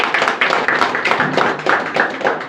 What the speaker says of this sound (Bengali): একবার নিজের জন্য একটা হাততালি হতে পারে।